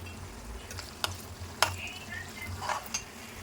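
Green chillies fry in a pan with onions for mutton curry, giving a steady low sizzle with a few sharp spoon clicks against the pan and some scraping stirs.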